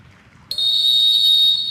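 A loud, steady high-pitched dog handler's whistle blast at a retriever field trial starts abruptly and holds for about a second over low rumbling background noise, near running water.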